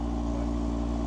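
Audi TT RS convertible with a five-cylinder engine idling steadily after a cold start, a dense, even low rumble with a rich layered hum, close and constant throughout.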